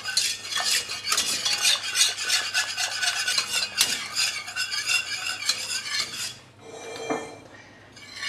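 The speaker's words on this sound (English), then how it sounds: "now we're going to whisk this until it thickens and we don't want any lumps in there" A whisk clatters steadily against a metal pot as white sauce for shrimp bisque thickens, a busy continuous scraping and ticking that stays close and loud, then eases off near the end, with no voices.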